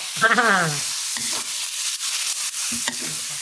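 Minced pork being stir-fried in a pan with chili powder, a steady close sizzle broken by light stirring scrapes, with a short voice at the start.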